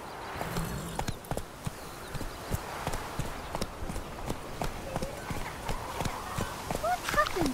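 Roach the horse trots in The Witcher 3 video game, with a steady run of close, crisp hoof clip-clops and a brief whinny. Voices talk over the hoofbeats.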